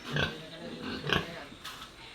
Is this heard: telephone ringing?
no